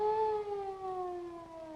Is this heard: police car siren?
yes